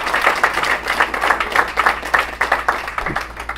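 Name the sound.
applause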